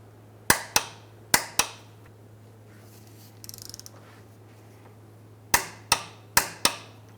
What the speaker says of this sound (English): We're going to torque these down to 69 foot-pounds